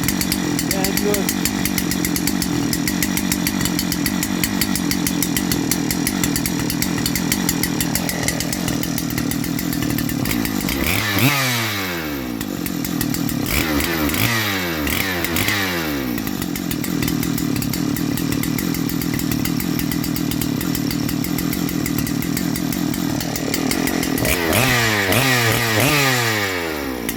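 Husqvarna 3120xp chainsaw with a new coil lead and carburettor modification, its engine running loud and close throughout, revving up and down several times, with people talking over it.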